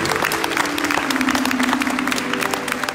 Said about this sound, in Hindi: एक बार उन परिवार वालों के लिए जोरदार ताली बजनी चाहिए